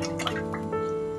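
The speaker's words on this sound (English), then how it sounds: "And in this goes a lot of olive oil." Olive oil poured into a batch of wild garlic for pesto: a short, close liquid trickle with light splashy drips over a steady low background hum.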